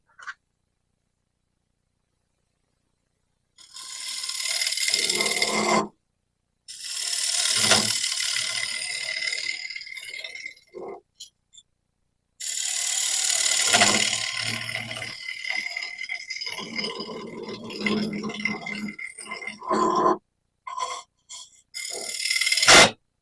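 Lathe tool scraping a cherry wood bowl: bursts of harsh, rattling scraping cut in and out across the stretch, with short silent pauses between passes, fairly close and alone without talk.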